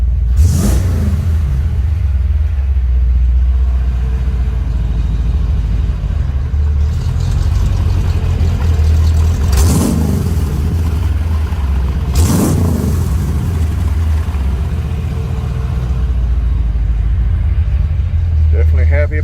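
A 1956 Ford F-100 pickup engine runs loud and steady close by, blipped into sharp revs three times over a constant idle rumble, with a voice talking over it.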